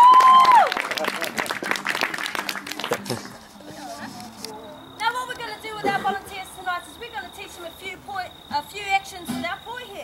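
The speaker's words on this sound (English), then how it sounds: "Round of applause for our beautiful volunteers." An audience claps for volunteers on stage at a New Zealand cultural gathering: a short burst of brisk clapping fades within a few seconds, then gives way to voices and music.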